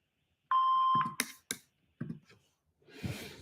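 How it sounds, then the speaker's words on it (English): An answering machine gives one steady electronic voicemail beep lasting about half a second, followed by clicks and short bursts of noise in an otherwise quiet line. "Please leave your name and phone number after the beep."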